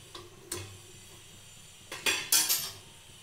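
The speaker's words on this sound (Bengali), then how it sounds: "জলটা একটু গরম হয়ে গেলে আমি টিফিন বক্সটা এর মধ্যে দিয়ে দেব।" A tiffin box goes into a pot of hot water, giving a few metallic clinks and knocks of metal on metal. The first comes alone, then a cluster of sharper clanks follows a moment later, heard close up with no talking.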